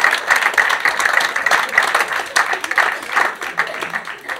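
Loud, close audience applause after a stage hypnosis act at a magic show, a dense, sustained patter of many hands clapping with light crowd noise mixed in.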